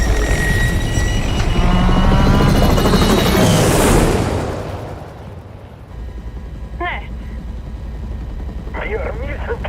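A helicopter in the Call of Duty Modern Warfare 3 video game roars loudly with heavy rotor and engine noise, then settles into a steadier, quieter drone under brief game sounds.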